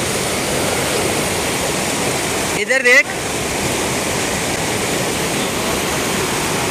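Rushing water from a flooded stream in Shadara Valley near Islamabad, a loud steady broadband roar throughout, briefly interrupted midway by a short burst of a man's speech.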